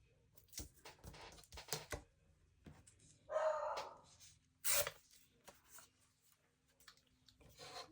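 A puppy yaps a few times in short bursts, fairly close, with quiet room sounds between barks.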